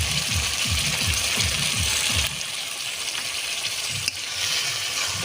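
Chicken stomach, neck and liver cook with chilli, cumin paste, turmeric and salt in a pan, a dense steady sizzle with a rhythmic low stirring scrape for the first half, then a plainer hiss and one sharp knock.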